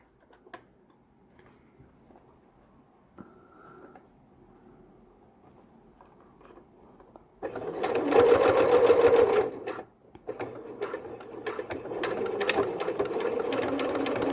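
A sewing machine stitches binding onto a summer cami, starting after a quiet stretch with a loud, steady run, a brief pause, then another sustained run, close by.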